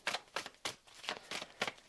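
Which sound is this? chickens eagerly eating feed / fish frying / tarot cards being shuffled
tarot cards being shuffled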